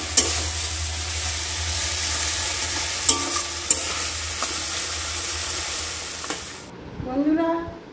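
Chicken stir-fried in a kadai sizzles steadily with scraping stirs and a few sharp knocks of the spoon, the frying cutting off near the end.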